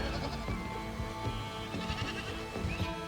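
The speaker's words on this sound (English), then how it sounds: "There's Mama Goat." Goats, including a mother goat, bleating in a newly fenced grassy pasture after moving, several repeated calls overlapping, fairly loud and close with no talking.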